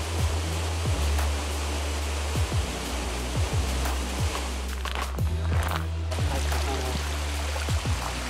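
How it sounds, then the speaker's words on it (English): Steady rushing roar of a waterfall in an Oklahoma state park, fairly close and continuous, with regular footsteps crunching over it as someone walks nearby. "I did not know they had waterfalls."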